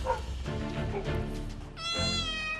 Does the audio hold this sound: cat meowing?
yes